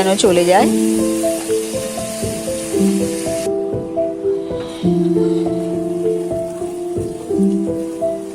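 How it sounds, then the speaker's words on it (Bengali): Hot oil sizzles steadily as onion paste fries, beneath clear melodic background music, the crackling hiss continuous and fairly close. "পেঁয়াজ দেওয়ার পর ভালো করে আবার ভালো করে ভেজে নিলাম"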